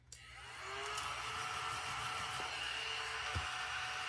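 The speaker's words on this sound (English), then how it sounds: "And I'm going to scratch these the rest of the way off and then vacuum it." A household vacuum cleaner starts and runs steadily, close and fairly loud, a whining motor drone with a brief bump near the end.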